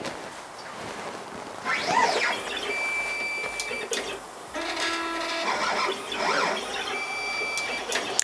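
A garage-built CNC plasma cutter runs its touch-off routine, giving steady mechanical whirring with repeated rising and falling motor sweeps and short clicks, continuous and fairly close over a constant background hiss.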